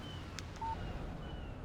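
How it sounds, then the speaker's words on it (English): A short electronic phone text message alert chimes once in the video game Alan Wake, a faint thin tone over a quiet hiss of background ambience. "Text message from Barry"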